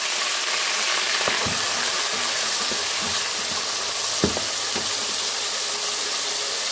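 Chopped raw tomato fries with garlic in a hot pan, giving a steady, even sizzle and hiss with a few faint knocks, close up and without talk.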